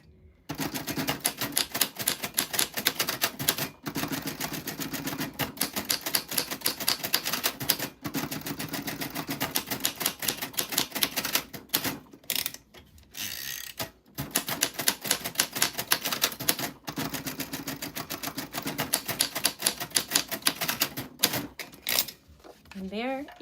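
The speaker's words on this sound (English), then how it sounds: "an exclamation point on an old typewriter is a period and then a backspace and then a comma over it" An old manual typewriter clacks away in rapid, uneven bursts of keystrokes with brief pauses and carriage sounds, close and loud throughout.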